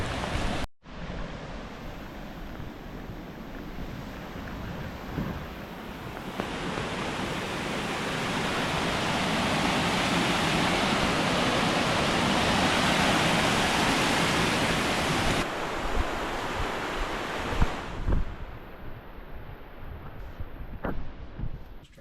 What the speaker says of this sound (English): It is pouring out now.